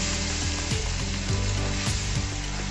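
Water is poured into a pan of sautéed arbi (taro) masala, producing a loud, steady sizzling hiss with repeated stirring scrapes throughout; no voices.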